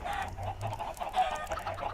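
Chickens clucking in a Minecraft farm, a faint, soft run of short repeated clucks with low game ambience underneath and no talking.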